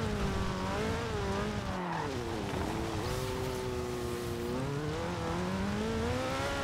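Cars racing in Forza Horizon 2 near a golf course road, engines whining and shifting pitch as they accelerate and pass, a steady loud stream of revving with brief tire noise, no talk.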